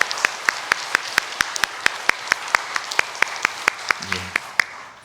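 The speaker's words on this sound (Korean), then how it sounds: "모든 권사님들을 향하여서 우리 박수로 축복하겠습니다." Congregation at a Korean church praise service giving a round of applause, heard as slow, evenly spaced sharp claps close to the microphone over a soft background, with a brief voice near the end.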